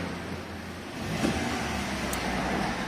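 A car engine running on gas from a European-type LPG system, idling and then gently revved, a low steady hum that swells a little partway through, moderately close with no voices.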